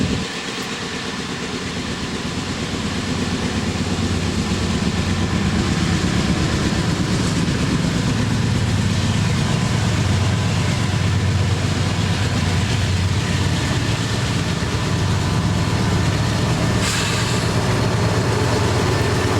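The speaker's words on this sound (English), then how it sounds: "At AR Tower in Gallitzin, train 10N comes over the hill from Conway, Pennsylvania, heading east to Allentown" A Conrail freight train, train 10N, climbs over the hill at AR Tower in Gallitzin, Pennsylvania, behind a blue Conrail engine and MP-15DC locomotive 2399. Its diesel engine drones loudly and steadily throughout, and no voices are heard.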